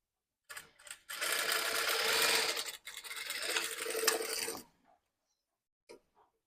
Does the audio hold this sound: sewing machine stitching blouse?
yes